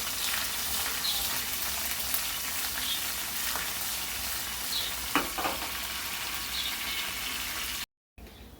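Garlic, curry leaves and dry red chillies sizzle in hot oil in a pan as a tempering for okra fry curry, a steady crackling hiss with a few sharper pops and spoon scrapes, close up with no talking.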